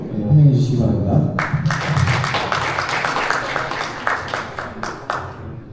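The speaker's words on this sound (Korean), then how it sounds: "큰 박수로 환영해 주시기 바랍니다." Audience applause greeting a guest lecturer at a Gyeonggi-do transport ITS best-practice presentation event; a host's voice is heard briefly, then a hall bursts into dense, steady clapping that runs about four seconds and thins toward the end.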